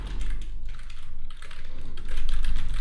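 Rapid typing on a computer keyboard, a quick run of soft close key clicks in short bursts, alone without talk.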